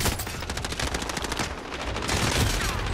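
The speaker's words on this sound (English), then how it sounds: "Someone's already trying to shoot me, Slim." Rapid automatic gunfire from the video game Warzone rattles on continuously and loudly, a dense string of shots with no pause throughout.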